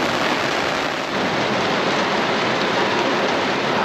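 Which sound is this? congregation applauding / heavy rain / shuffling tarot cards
heavy rain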